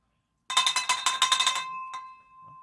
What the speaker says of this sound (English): I'm going to ring the bell just because I'm excited for you